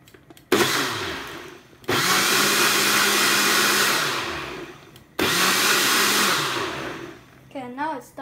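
Kitchen blender whirring through milk and Oreo cookies for a milkshake, two loud sustained bursts of several seconds each with short pauses between, the motor pitch dipping as it spins down, a brief trilling sound at the very end.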